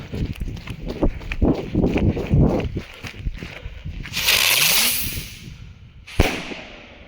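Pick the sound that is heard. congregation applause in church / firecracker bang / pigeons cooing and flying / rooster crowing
firecracker bang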